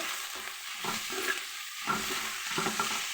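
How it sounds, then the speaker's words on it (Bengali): Vegetables fry with spices, salt and green chilies in a pan, giving a continuous soft sizzle with intermittent stirring scrapes, close and moderate in level, with no talking. "লবণ দিয়েছি তিন চামচ আর কাঁচামরিচ দিয়ে দিয়ে ভালো মতো মশলার সাথে এটা ভেজে নিচ্ছি"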